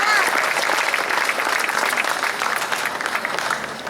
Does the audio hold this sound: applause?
yes